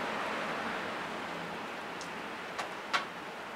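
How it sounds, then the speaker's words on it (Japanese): Light, steady rain falls outdoors beside a road, a soft continuous hiss with two brief sharper ticks near the end; no one speaks. "しとしとと雨が降っている状態ですけれども"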